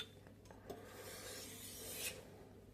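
A knife blade is being resharpened on a wet whetstone with a technique guide, giving a steady, close rasping scrape that rises briefly near the end, with no talking.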